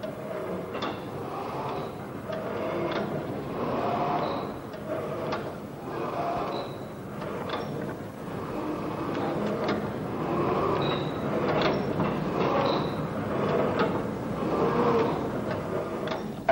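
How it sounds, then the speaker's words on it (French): A computer-controlled plotter draws car body plans, producing repeated mechanical clicks, short whirring slides and ticking moves at an uneven rhythm over a steady background hum. "Il peut alors piloter une machine à dessiner les plans de la carrosserie à l'échelle"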